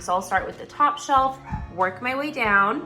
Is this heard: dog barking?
yes